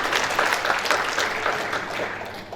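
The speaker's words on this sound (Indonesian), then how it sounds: "sekali lagi berikan tepuk tangan kepada para toreda" Audience applause at an event in Sorong, Papua, a dense, steady wash of clapping from a crowd that carries on throughout and slowly tapers off toward the end.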